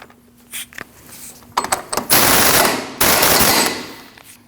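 A Subaru Forester front axle nut being driven tight with an impact wrench, with a few short clicks and bursts followed by two sustained loud rattling hammering runs.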